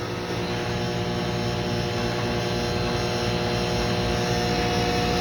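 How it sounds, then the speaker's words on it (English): An HVAC compressor runs on its own during low-refrigerant troubleshooting, giving a steady, continuous mechanical hum with a constant drone that holds evenly from start to finish. "And the compressor is running on its own right now."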